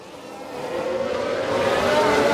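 A Formula 1 car spins out in the F1 Manager 2022 racing game, its engine a steady, sustained roar with a rising tonal whine that grows slightly louder over a couple of seconds.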